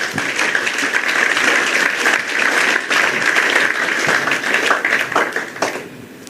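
Crowd at a speech by Kennedy Agyapong clapping vigorously, a dense steady roar of applause that tapers off near the end, with a few cheers inside it.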